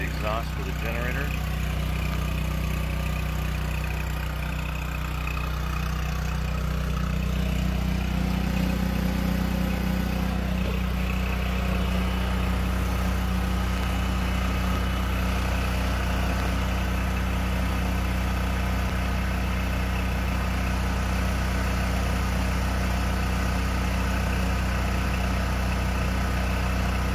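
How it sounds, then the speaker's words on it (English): The generator on a used 2016 Pleasure Way Plateau TS camper van runs near its exhaust with a steady, even low drone that holds constant throughout without a break. "This is the exhaust for the generator."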